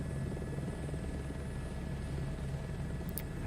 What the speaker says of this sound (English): This is the helicopter that's landed on the summit of Everest and taken off from the summit of Everest.